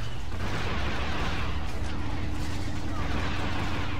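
Rapid repeater blaster fire from a Trandoshan battle on Kashyyyk in modded Star Wars Battlefront 2, a dense continuous rattle of shots over heavy battle din throughout.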